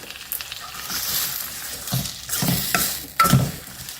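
Tomatoes sautéing in a pan for spicy chutney, a close sizzle and crackle with occasional scraping stirs, rising and falling in loudness.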